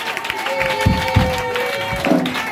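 Church congregation acclaiming during worship, with crowd applause and cheering voices mixed with sustained tonal sounds and occasional low thumps, a lively, fairly loud wash of sound.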